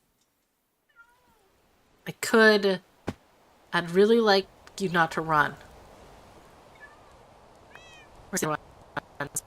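Cats meowing in a Minecraft modpack video game, a few faint meows mixed between close, loud bursts of someone talking.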